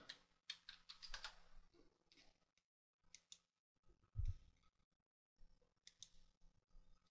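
Keys tap on a computer keyboard in short, quiet bursts with brief pauses between them, close and alone.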